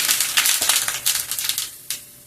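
Mustard seeds and onion dropped into hot oil for tempering curd rice, giving a close, bright crackle with scattered pops and spits that fade toward the end.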